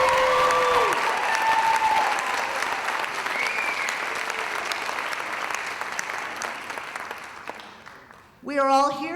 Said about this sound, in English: You can all give her an applause at this moment.